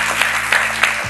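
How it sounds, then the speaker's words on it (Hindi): Studio audience applause on a game show, a short burst of clapping that swells in soft pulses over about a second, with a low hum underneath. "सबके लिए एक बार फिर बहुत सी तालियां"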